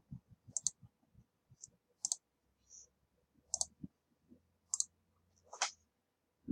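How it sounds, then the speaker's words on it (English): A recently reset computer with a clicking fault gives a rapid series of sharp, dry clicks, some in quick bursts and others spaced apart, fairly close and alone with no voices. "it's already got some kind of clicking problem."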